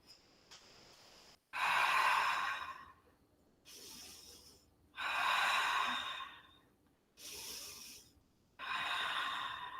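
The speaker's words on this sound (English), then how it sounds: "Breathe." Slow, deep breaths drawn in a quiet room during a seated yoga stretch: several long exhales and inhales, close and soft, separated by near-silent pauses, with no talking.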